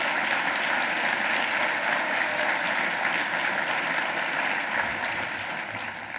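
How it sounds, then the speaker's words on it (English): Sustained applause from an audience at an environmental law institute's annual award ceremony, a dense steady wash of clapping that holds for several seconds and begins to fade slightly near the end. "Applaud Jordan, if you don't mind."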